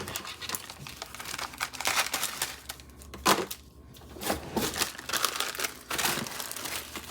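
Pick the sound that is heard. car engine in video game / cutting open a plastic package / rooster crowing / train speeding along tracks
cutting open a plastic package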